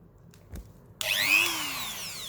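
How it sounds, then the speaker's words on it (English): A Dremel-type rotary drill spins up during work on a Phoenix Armour robot, a sharp whirring whine that starts abruptly after a couple of light taps and holds steady, close and fairly loud. "We're going to require a beautiful Dremel type drill"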